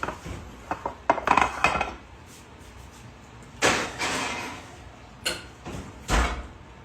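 Baking trays going into a home oven, with scattered metallic clanks and scrapes, a few sharp knocks and the rattle of the oven rack and door, fairly close and alone.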